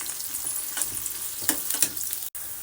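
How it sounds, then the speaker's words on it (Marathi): Long-cut sliced vegetables deep-fry in oil for a veg biryani, a constant crackling sizzle with several stirring scrapes and a brief dropout near the end, no voices. "याला मी फ्राय करून घेते तळून घ्यायचं आपल्याला आहे जसं आपण चिवड्यासाठी वगैरे तळतो ना तसा आहे"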